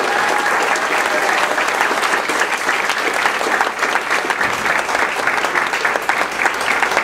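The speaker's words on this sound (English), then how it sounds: "let's have one more round of applause for the candidates for City Hall" Sustained audience applause for city hall candidates at a Casa Grande candidate forum, dense steady clapping from a crowd throughout with no break.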